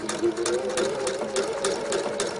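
A sewing machine stitches a V-shaped rib-knit neckline with a one-centimetre seam allowance, running as a steady, close, continuous whir with a fast stitch rhythm throughout.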